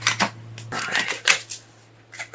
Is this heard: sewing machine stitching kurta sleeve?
no